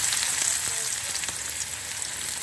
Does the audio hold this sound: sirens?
no